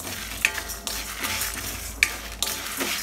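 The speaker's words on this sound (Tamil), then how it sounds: "தனியா வரமிளகாய் எல்லாத்தையும் போட்டு வறுத்துக்கோங்க" Coriander seeds, dried red chillies and chana dal are dry roasted in a pan for sambar powder, giving a continuous rustling, hissy scrape with a few sharp clinks of a stirring spoon.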